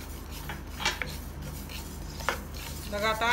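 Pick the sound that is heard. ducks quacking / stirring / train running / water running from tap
stirring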